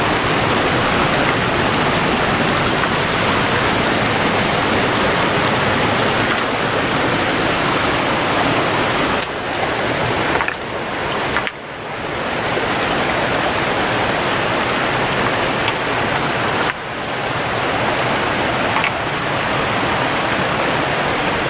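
A triple waterfall in the Smoky Mountains of Tennessee roars as a loud, steady, broadband rush of falling water that continues without a break, with brief dips in level midway.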